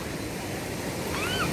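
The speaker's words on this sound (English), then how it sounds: "the flow of the water has increased because it's been raining" River water rushing after rain, a steady broadband roar of flowing current near the microphone, brief and continuous with no talk.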